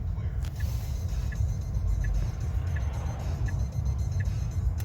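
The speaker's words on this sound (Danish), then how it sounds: "Der kommer 2 biler, og så ser det ud til at være helt frit." Car traffic on a road in Ribe, Denmark on a sunny December day, heard from inside a Tesla: a steady low rumble of passing vehicles with a faint ticking indicator repeating at even intervals.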